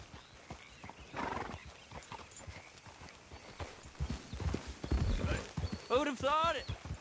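Rhythmic hoofbeats of a galloping horse in the video game Red Dead Redemption 2, fairly close, with a horse whinnying near the end.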